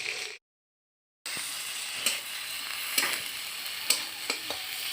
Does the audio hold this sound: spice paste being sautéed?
yes